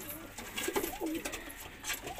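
An Indian fantail pigeon coos softly in a breeding setup, a few low rolling notes rising and falling against a faint background hiss.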